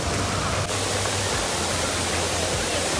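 Steady, dense hiss of rain falling all around in Castle Forest on Mt. Kenya, Kirinyaga, constant and enveloping with no voices, like a downpour on foliage.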